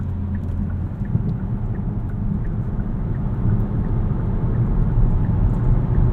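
A 2018 Kia Stinger 2.0T AWD in sport mode gives a steady low engine rumble and road roar from inside the cabin, growing slightly louder as it accelerates.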